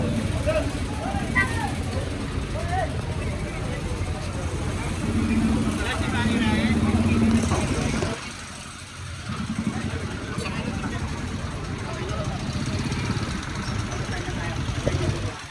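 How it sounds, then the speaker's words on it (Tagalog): Motorcycles, including an NMAX scooter, and motor tricycles rumble past with idling and revving engines, steady street traffic noise while a person talks over it. "Tapos mayroon pang hatak na motor, tricycle, ayan."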